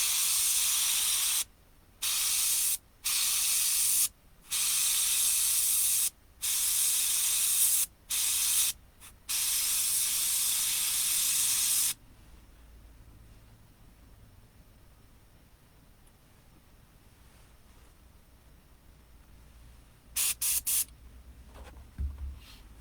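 An airbrush sprays paint onto an RC car body shell in several close bursts of hissing air, each lasting one to three seconds. A long quiet stretch follows, then a few short spurts near the end.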